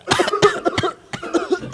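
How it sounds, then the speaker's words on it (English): A man coughs in quick, harsh bursts, two clusters of hacking coughs close up with a brief gap between them. "He was even coughing when somebody else was talking."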